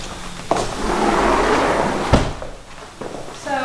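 A sliding door at a house opens or closes with a sharp knock near the start, a rolling rumble through the middle and a louder thud shortly after, then lighter clicks, all close by and with no talk.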